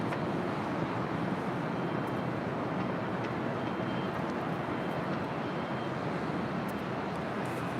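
Delta Airlines Airbus A321 arriving on runway 24 left at LAX, a steady broadband jet roar that holds at an even, fairly loud level throughout, with no talking.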